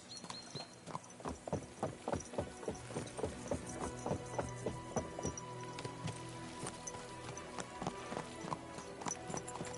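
Steady clip-clop of horse hooves in the video game Kingdom Come: Deliverance II, at a brisk, even rhythm, fairly close, with a brief whinny and faint background tones.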